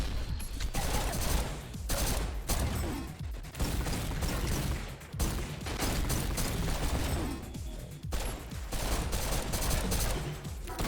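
Rapid pistol gunfire in the fast first-person shooter GTTOD: Get To The Orange Door, with dense bursts of shots over loud, continuous game action and music, dropping out only briefly.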